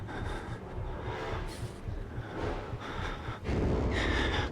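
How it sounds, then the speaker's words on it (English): Heavy, menacing breathing from an enemy lurking just outside a door in the horror game Outlast, rasping snorts and gasps that rise and fall continuously, swelling louder near the end. "I hear him breathing outside of my door"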